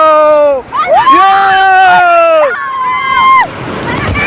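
Sea waves surge and wash around a ride out on the water at Digha, a broad rushing wash that stays mostly buried beneath loud, excited voices shouting and talking close by.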